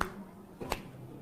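Hands clapped together to knock dust off the palms, two short sharp claps a moment apart, close and alone in a quiet room.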